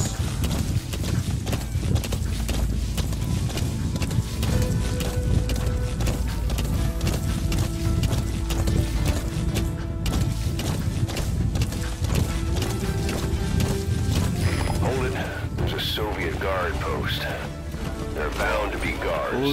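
A white horse gallops in Metal Gear Solid 5, its hooves clip-clopping steadily under game music, with an occasional whinny and someone speaking over the ride.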